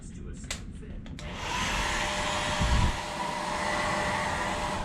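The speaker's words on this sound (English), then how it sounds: "Hair dryer. Let's see." A handheld hair dryer in a cruise ship cabin bathroom on the Carnival Vista runs as a steady, close whooshing hiss after a few brief knocks as it switches on, continuing alone without talk.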